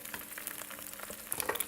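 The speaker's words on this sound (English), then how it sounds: "Now the cool thing about frying an egg is you're getting like kind of the meatiness of the white and you're getting the yolk." An egg frying in a pan, salted and stirred with a spatula: steady crackling sizzle throughout, with sharper spits and pops growing denser toward the end, heard alone with no voices.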